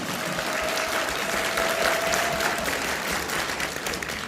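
Audience applause at a business seminar, a steady sustained clapping from a sizeable crowd filling the room evenly from start to finish.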